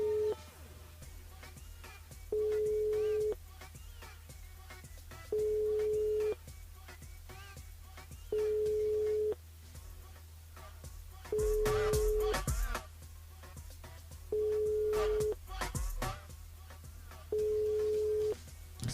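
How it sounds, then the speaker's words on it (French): A French telephone line ringing with no answer during a live radio broadcast, repeated steady ring tones spaced evenly about every three seconds, with faint background noise and brief rustles between rings. "Ça sonne mais ça répond pas."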